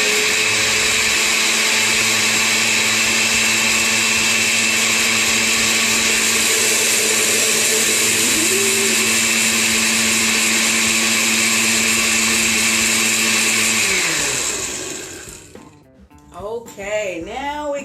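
A heavy countertop blender whirs steadily and loudly while blending a navy bean smoothie with milk, a constant high motor drone for about fourteen seconds before spinning down, followed by speech.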